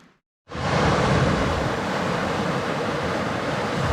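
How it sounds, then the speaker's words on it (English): Rushing water, likely waves or surf, beside a campsite on a night of the Bruce Trail thru-hike in 2022, kicks in after a brief quiet start as a loud, steady, broadband roar with no talking. "I don't know if you're gonna hear this because the water is kind of noisy."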